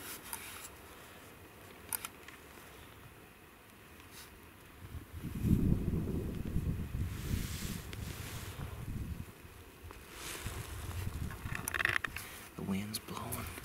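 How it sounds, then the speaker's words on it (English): Wind gusts across an open mountain hunting camp in cold weather, a steady low rumble of buffeting that swells loudest midway and fades, with faint background noise and no talk. "The wind's blowing."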